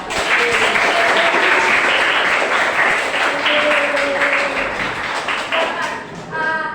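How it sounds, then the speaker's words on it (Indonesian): A classroom of students clapping their hands together, loud sustained applause that tapers off, with voices talking near the end. "Tepuk tangan."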